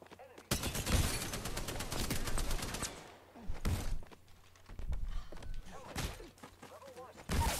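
Gunfire in the battle royale game Apex Legends comes in a rapid automatic burst, then sporadic single shots and short volleys with impact thuds, under a player's talking.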